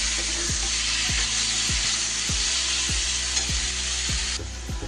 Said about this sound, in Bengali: এবার মাছগুলো দিয়ে মশলার সাথে নাড়াচাড়া করে নেব।